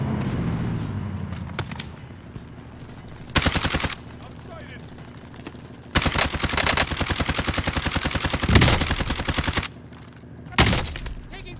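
Gunfire in Call of Duty Warzone: several loud bursts of rapid automatic fire, short ones around four and eleven seconds and a longer sustained one in the middle, set against quieter background noise.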